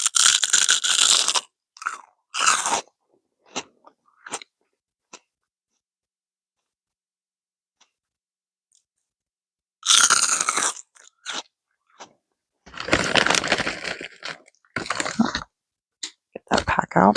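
Seaweed chips crunched and chewed close to the mic in loud, crisp bursts, separated by long quiet pauses and a few small clicks.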